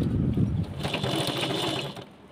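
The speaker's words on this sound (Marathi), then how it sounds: "हे बघा असे हळूहळू मी शिलाई घेत आहे" A sewing machine stitching slippery net fabric runs steadily and close at a slow pace, its motor whirring with a fine rapid needle patter throughout.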